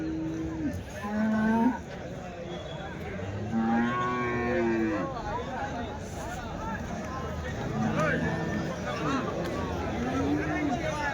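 Calves and cattle at the Chintamani Sunday cattle market moo repeatedly, several drawn-out calls from different animals near and farther off, over steady crowd hubbub and someone talking.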